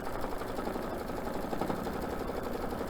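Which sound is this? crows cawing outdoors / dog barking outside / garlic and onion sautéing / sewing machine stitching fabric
sewing machine stitching fabric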